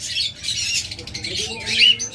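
Pet opaline birds at a bird sale, squawking and chirping in short bursts near the microphone, with someone talking over the calls.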